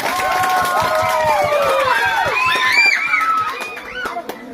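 A crowd at a Sunday school committee gathering applauds and cheers, with children's voices shouting and calling over a dense patter of clapping that tapers off toward the end.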